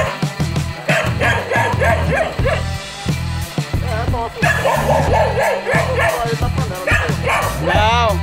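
A dog barks and yips repeatedly in excited bursts close by at a tegu lizard, while people talk over the commotion.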